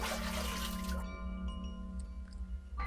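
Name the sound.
bucket filling with water, sound effect from the video game Ib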